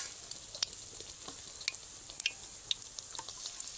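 Motichoor laddu batter drops frying in hot oil in a wok: a steady, close hiss of sizzling with small scattered pops and crackles throughout.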